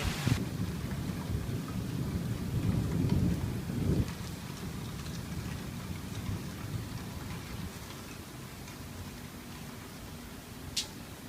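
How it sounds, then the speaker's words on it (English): Steady heavy rain pours throughout while low rolling thunder rumbles in the first few seconds, then fades into the hiss of the downpour. "And it's raining."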